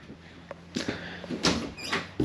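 A motorhome's interior door to the half bath creaks and clunks as it is opened nearby, with a few short knocks and a scraping slide.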